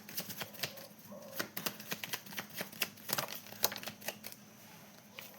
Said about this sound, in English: so I'm gonna shuffle them again